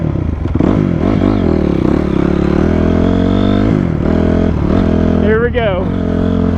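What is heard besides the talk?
Honda CRF250R dirt bike engine started and revving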